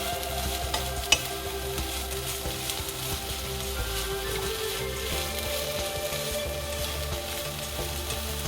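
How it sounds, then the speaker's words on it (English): Garlic stems and dried shrimp stir-frying in a pan for a Korean side dish, with a steady close sizzle and occasional scraping stirs, one sharp clink near the start. "When it is almost done, add 1 spoon of grain syrup and give it a stir."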